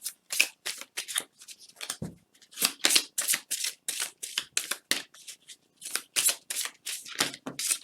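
Oracle cards shuffled by hand during a card reading: a quick, crisp riffling that repeats in short bursts with brief pauses between them, close and clear with nothing else around it.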